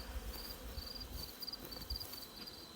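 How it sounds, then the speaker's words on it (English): Bees and wasps buzz around beehives as they try to rob honey in late-season fall hive work, a faint steady outdoor hum with thin intermittent whines coming and going, no voices. "There's bees and then a bunch of wasps trying to get in there and steal the honey back."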